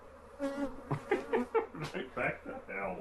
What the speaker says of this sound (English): say goodbye to these bees